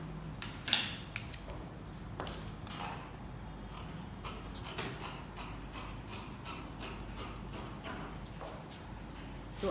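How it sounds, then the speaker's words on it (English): Scissors snip through fabric while a fitted Yoruba buba is cut out, giving close, soft clicking blade closures in an irregular rhythm over quiet room noise. "So I'm just going to be cutting."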